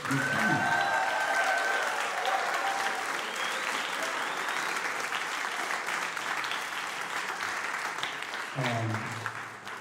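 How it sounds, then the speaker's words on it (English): Sustained audience applause fills a jazz workshop symposium hall, steady and dense for nearly ten seconds, with a whistle-like cheer near the start and a few voices rising briefly near the end. "So I want to give a big round of applause."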